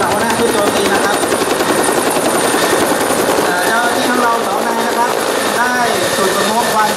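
A helicopter flies in close during a police hostage rescue drill, its loud, steady rotor chop and engine whine filling the whole stretch under faint voices.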